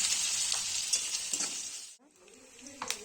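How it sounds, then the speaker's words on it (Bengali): Onion frying with salt in a kadai sizzles loudly and steadily, then drops off sharply around the two-second mark before a fainter stir and sizzle resume. "ভেজে নেব, লাল হয়ে যাবে পেঁয়াজটা"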